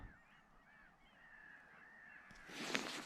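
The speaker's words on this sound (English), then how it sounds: "All I can hear is loads of radgy seagulls." Faint, distant calls of gulls by Haweswater in the Lake District, a series of wavering cries over quiet outdoor air, ending in a louder rustling burst nearby.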